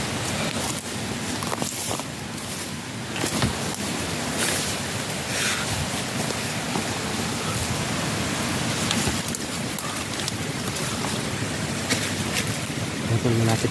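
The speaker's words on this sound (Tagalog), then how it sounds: "malapit na kami sa sapa" Water of a nearby creek makes a steady, broad rushing wash that fills the whole stretch, with faint scattered knocks and rustles on top.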